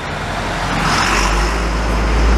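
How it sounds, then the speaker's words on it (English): A truck drives past on a city street in Montreal's Mile End and Little Italy districts, a loud, close roadway roar that swells steadily as it nears. "That's how a truck's supposed to sound."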